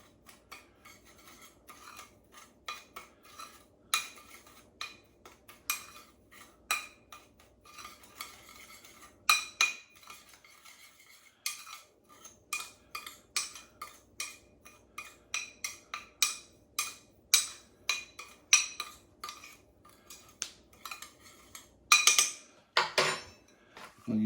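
Utensils scrape and clink rhythmically against a dish while mixing a rub for bacon, with repeated short strokes, a brief pause midway, then faster scraping near the end, close and unaccompanied by talk.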